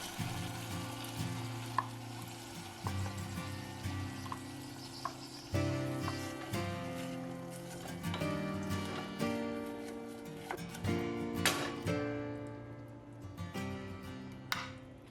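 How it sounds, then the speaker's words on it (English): Frozen pumpkin puree broken up and stirred in a pot on the stove, with close, irregular scraping and knocking of the spoon over a soft simmering hiss. "As you can see, the pumpkin is still a little bit frozen, so I'm making sure to break up the frozen parts."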